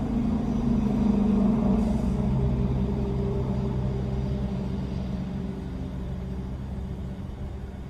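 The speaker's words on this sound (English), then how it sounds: "Sorry about all the trucks going by." Trucks passing on a nearby road, a steady low engine rumble that swells early and slowly fades over several seconds, with no talk.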